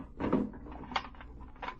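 Cash drawer on a kissing booth or shop till sliding open, a couple of soft wooden knocks and rattles heard close with no talking over them.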